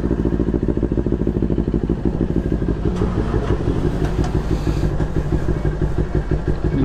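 A Kawasaki Ninja 400 motorcycle idles close by at a cool hillside stop, its engine putting out a steady low throb and rhythmic pulse with light mechanical clatter, loud and continuous with no talking.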